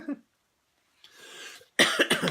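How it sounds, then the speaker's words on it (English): A single short cough from someone with a cold, then a pause, a softer breathy rasp, and a louder harsh fit of coughing close to the microphone. "Excuse me while I hack and cough."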